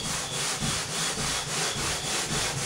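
An old rag scrubbing paint residue off a wooden Hoosier cabinet, a steady rhythmic back-and-forth rubbing, close and fairly loud, with no voices.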